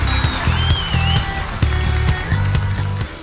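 Applause from a large outdoor crowd at a culture and arts festival in Şile, a steady dense patter of clapping with rhythmic music pulsing underneath.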